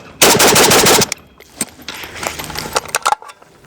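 Riley Defense RAK-47 rifle firing a rapid burst of rounds at close range, loud sharp automatic-style reports for about a second, followed by scattered clinks and handling rattles.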